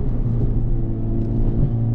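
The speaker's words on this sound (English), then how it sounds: "this car does have a lot of road noise" Road noise heard from inside a Honda Civic Type R FL5 while driving is a loud, steady low rumble and tire roar that stays even throughout, with no voices.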